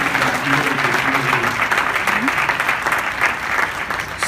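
Loud, dense audience applause fills a hall after a worship band's performance, sustained and even throughout, with faint voices mixed into the crowd.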